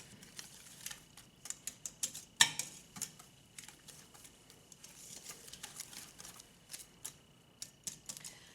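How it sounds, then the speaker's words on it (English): A whisk mixes sugar into wet pumpkin muffin ingredients in a bowl, producing close, quick, irregular clicks and taps against the side, with no talk. "I'm just going to use a whisk to mix this up"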